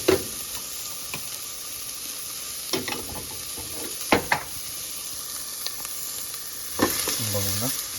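Shrimp sizzle in a pan of onions and garlic with a steady, close frying hiss, broken by scattered clinks and stirring scrapes, and a louder burst of spatter near the end.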